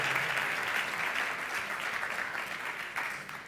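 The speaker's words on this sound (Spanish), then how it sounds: "fuertes aplausos para él y bienvenido" Sustained audience applause welcoming a speaker at a tourism innovation and sustainability talk, a dense steady wash of clapping at moderate level that eases slightly toward the end, with no voices over it.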